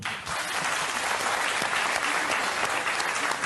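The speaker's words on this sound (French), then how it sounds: "Qu'on applaudit." A French television variety show studio audience claps loudly and continuously, a dense sustained applause that stays strong from start to finish.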